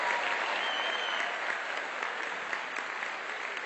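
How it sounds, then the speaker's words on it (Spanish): A comedy show audience in Mexico City claps steadily for a spectator, a full, even roar of applause from a large crowd that stays loud and unbroken for several seconds. "Aplauso para Paulina"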